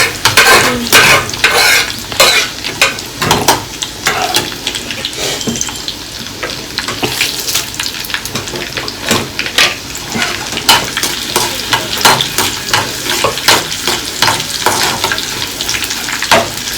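Dal tempering sizzling in a pan on low heat while a spoon stirs it, steady crackling with repeated sharp scraping strokes against the metal, loud and close, with no talk.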